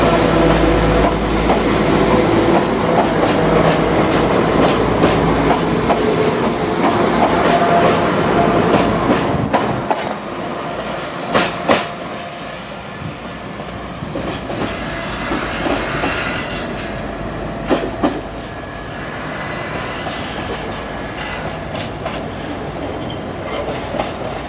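A West Midlands Railway passenger train rumbles and clatters loudly nearby, wheels clicking over rail joints with occasional squeals, the roar easing slightly midway as it rolls on.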